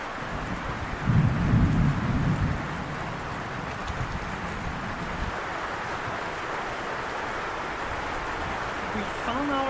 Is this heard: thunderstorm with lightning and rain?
yes